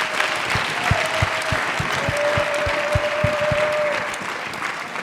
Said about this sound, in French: Applaudissons très bien pour le Seigneur.